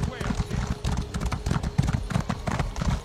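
A player's horse in a video game clip-clops at a steady, even trot, close and continuous for the whole stretch, with speech heard alongside.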